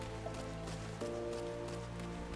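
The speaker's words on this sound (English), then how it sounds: "It's raining, just like it was earlier." Soft, steady rain patter in a video game, faint and continuous with a low tonal hum underneath and no talking.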